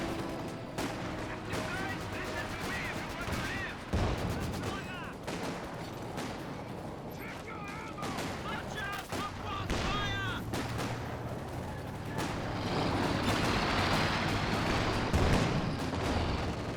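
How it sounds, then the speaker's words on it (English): Repeated gunfire and booming shots from a Company of Heroes 2 match, with a sniper rifle among the steady battle noise of artillery and vehicles; loud, dense and continuous, swelling toward the end. "Sniper fires away."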